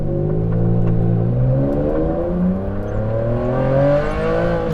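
Ferrari Enzo supercar V12 engine pulling away gently from a standstill, a steady rising drone as revs climb through the gears, heard loud and close from inside the cabin.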